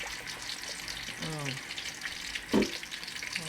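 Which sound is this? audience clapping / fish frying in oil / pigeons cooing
fish frying in oil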